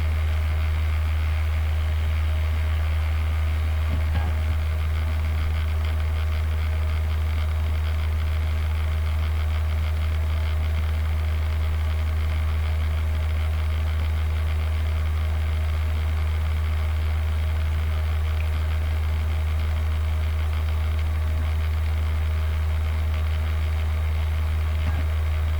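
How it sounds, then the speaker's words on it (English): A noisy computer DVD drive spinning steadily, a constant low hum and whir with faint mechanical noise running unbroken and fairly close throughout, no talk. "Sorry if my DVD drive's a little noisy."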